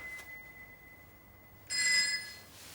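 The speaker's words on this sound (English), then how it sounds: "That damn phone!" A telephone rings in a quiet room, a faint steady tone followed by a brief louder trilling burst, with no one talking.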